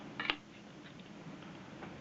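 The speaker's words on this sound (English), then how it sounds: "So this is the characteristic sound of a Hasselblad 500 series." A Hasselblad 500 series camera shutter fires once with a single sharp mechanical clack, followed by faint ticks in a quiet room.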